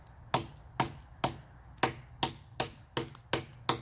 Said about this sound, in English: Every strike is just removing product, removing wood.